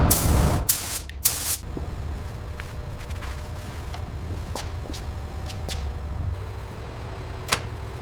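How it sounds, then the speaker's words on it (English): An HVLP spray gun lays silver paint onto a Ferrari 458 Spider part in a steady, close hiss that runs throughout, opening with louder bursts and broken by occasional sharp clicks. "the HVLP spray gun delivers a flawless application, transforming the silver into a deep, mirror-like gloss"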